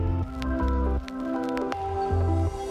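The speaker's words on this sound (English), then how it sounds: "It's raining already." Rain drips onto Vango camp tents at a wild campsite as irregular wet drops and squishy taps that land on the fabric up close over a faint background.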